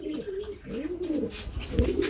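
Racer pigeons coo nearby in soft, throaty, repeated rolling calls, one after another, with light background rustle.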